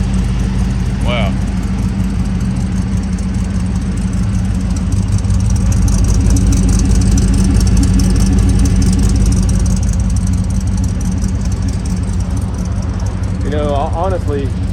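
A 1964 Chevrolet Impala with a Flowmaster Super 44 exhaust idles steadily and loudly throughout, a continuous low rumble close by, with brief voices and a whistle-like sound near the start and end.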